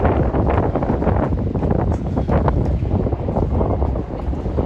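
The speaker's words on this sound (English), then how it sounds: "It's a bit windy over here." Strong wind on the Kangaroo Point walking and cycling bridge in Brisbane buffets the microphone continuously, a loud, rough roar with gusty surges and no talking.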